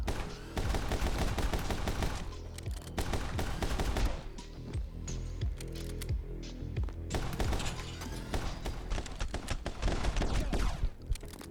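Gunfire in the action video game My Friend Pedro, with rapid bursts of repeated shots that come in loud dense volleys, pause briefly, then resume over game sound.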